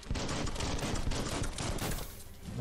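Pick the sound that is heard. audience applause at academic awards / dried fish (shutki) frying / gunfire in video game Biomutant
gunfire in video game Biomutant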